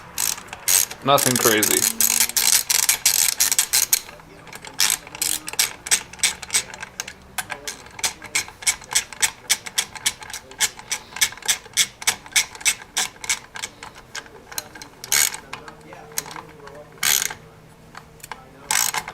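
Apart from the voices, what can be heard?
ratchet tightening 8mm bolts on a Honda Grom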